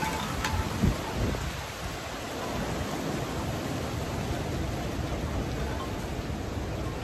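Steady dense rain on a breezy November day, a continuous even hiss with a brief bump near the start and no voices.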